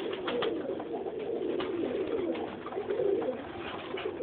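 A breeding pair of pet birds, a yellow hen and cock, coo softly and steadily in an aviary, their low calls overlapping in a continuous murmur with no talking.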